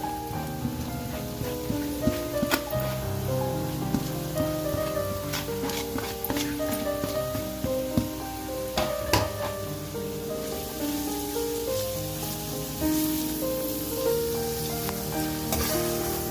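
Grated carrots fry slowly in ghee for gajar halwa, giving a continuous, rain-like sizzle with soft intermittent stirring clicks throughout.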